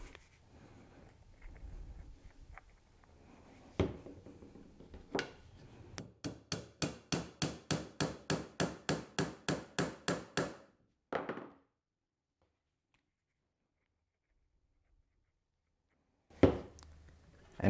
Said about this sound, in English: when I'm tapping these things in with this tiny little girly hammer